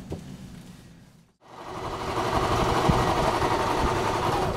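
A home sewing machine piecing quilt squares runs in a steady mid-pitched mechanical whir, briefly stopping near the start and then resuming loud and continuous close by.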